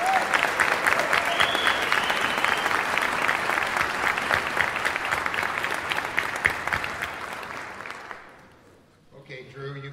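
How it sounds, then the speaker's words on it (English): A concert band audience applauds loudly and steadily for about eight seconds, the dense clapping then fading out while faint voices follow. "Let's give them a big round of applause."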